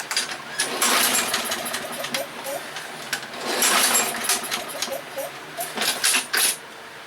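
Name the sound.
lawn mower engine running roughly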